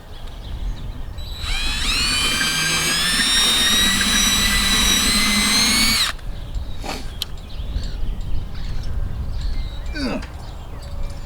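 A power drill enlarges a hole for a rivet nut during a wickerbill install, with a loud, steady high whine of about four and a half seconds that stops abruptly, leaving faint background noise and a couple of brief knocks.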